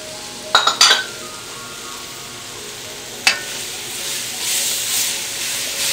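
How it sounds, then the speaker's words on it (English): Celery and bell peppers being stirred into an oily pot of vegetarian Creole gumbo: a few quick scrapes and clinks at the start, then a softer scrape, giving way to a steady sizzle. "I'm going to stir that all in there."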